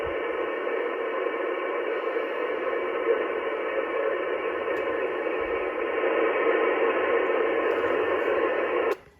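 A weak single-sideband ham radio transmission comes through as a steady band of static hiss with a faint muffled, unintelligible signal buried in the noise, cutting off abruptly at the end.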